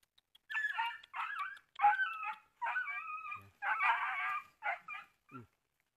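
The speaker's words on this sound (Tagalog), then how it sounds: "Nabitag tuloy yung aso." A dog caught in a trap in the Sierra Madre mountains whimpers and yelps in a series of high, strained cries with short pauses, fairly close and without any talking.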